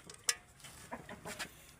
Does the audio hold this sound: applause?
no